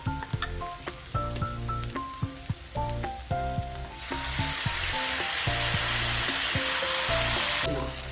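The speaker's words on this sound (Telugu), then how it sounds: "ఇది ఇప్పుడు మనం కలుపుకున్నది ఉన్నది కదా గ్రేవీ అది వేసుకుందాం మొత్తం" Biryani gravy goes into a hot pan. First come light clinks and stirring knocks, then a loud, sustained sizzle and hiss that swells up and carries on to the end, with no speech.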